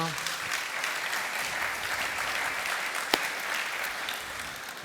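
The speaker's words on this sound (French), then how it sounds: "On peut applaudir l'effort, messieurs, dames." An audience at an association's general meeting applauds steadily, a dense continuous clapping from many hands with one sharp louder clap near the end.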